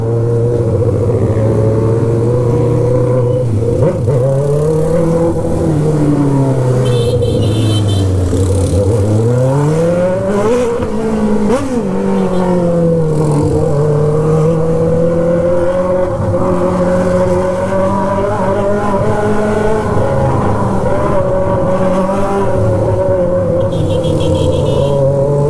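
Straight-piped car engine revving hard while doing donuts on a hill, a loud, continuous roar that rises and falls in pitch as the throttle swings, close and unbroken for the whole stretch.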